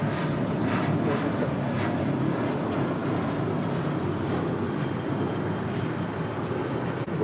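An airliner takes off from runway 25 right at LAX, a steady broadband jet roar filling the whole stretch with constant loudness and no voices.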